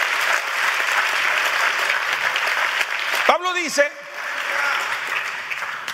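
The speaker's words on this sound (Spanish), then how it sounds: "Dele al Señor una ofrenda de palmas ahí en su lugar." Congregation applauding throughout a church service, steady broadband clapping from a crowd that continues under a brief spoken word near the middle.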